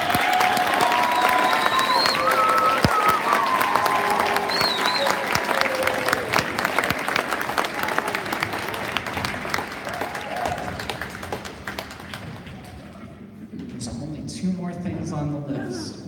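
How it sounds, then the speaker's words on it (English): At a spring school band concert, the audience gives the high school band a long round of applause with some cheering, fading gradually until talk resumes near the end. "Let's give our high school band a round of applause."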